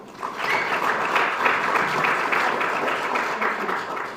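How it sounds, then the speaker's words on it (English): A workshop audience on Kenya's strategic goods control gives a steady, even round of applause, many hands clapping together at moderate volume from start to finish. "We can give him a better clap."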